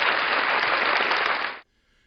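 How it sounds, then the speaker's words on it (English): A burst of dense, even applause, like a crowd clapping together, holds steady for about a second and a half and then cuts off abruptly into silence. "deserves a round of applause"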